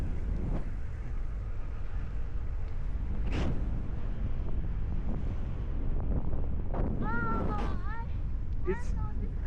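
Strong wind buffets the microphone during a bike ride in North Dakota, a constant roaring rush with voices talking over it and brief whistling tones.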